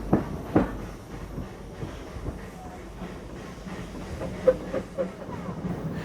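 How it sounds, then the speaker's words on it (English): A Southern Railway Terrier steam locomotive, number 32660, pulls away from Hayling Island station, a soft low rumble with faint clanks and a few sharper knocks, quiet and somewhat distant throughout. "Terrier number 32660 departs from Hayling Island"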